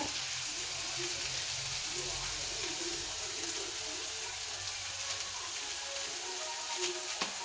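Onion and tomato sizzling and frying in a pan while being stirred, a steady hiss running continuously with faint scraping.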